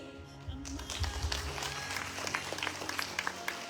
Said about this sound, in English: So I want to applaud Miss Charmaine Robisky.